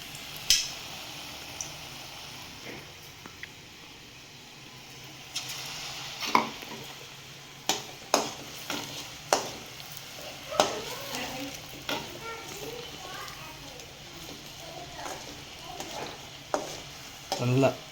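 French fries bajji frying in oil over a low flame: a soft, continuous sizzle, broken by repeated clicks and taps of a utensil stirring the pan, with a voice talking now and then.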